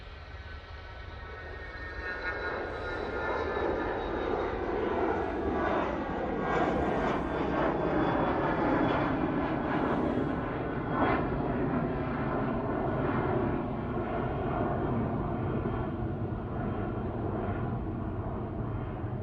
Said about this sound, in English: Air Tanker A330-200.